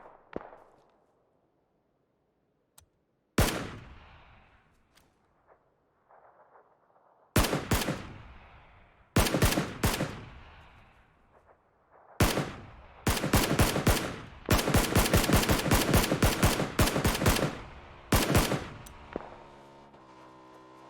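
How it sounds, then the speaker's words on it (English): Gunfire in the console version of the battle-royale game PUBG: isolated sharp shots, then rapid automatic bursts that grow denser, each with a short ringing tail. The shots are clear and loud, with no voices. "Who's shooting at you?"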